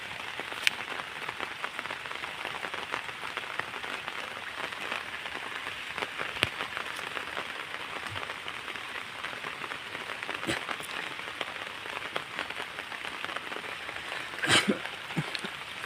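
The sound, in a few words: light drizzling rain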